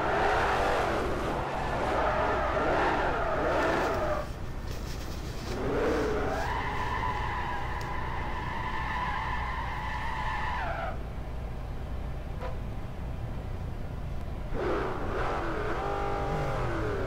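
Drift cars battling in a racing video game, an '05 Mustang against a Boss 302 at Long Beach, with long tire squeals and screeching skids between bursts of revving engines, loud and sustained, and no talking.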